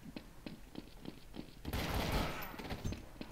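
Counter-Strike gunfire: a series of separate sharp shots spaced irregularly, then a dense, louder sustained burst of overlapping fire, followed by a few more scattered shots, with no talking.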